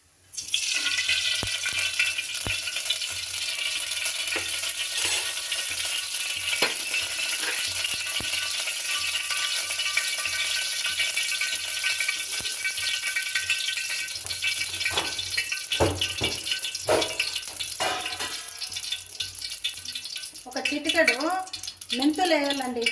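A steady, loud sizzle and splutter of spices tempering in a small ladle full of hot oil, with turmeric and fenugreek among them, continuing for the whole stretch with brief crackles toward the end.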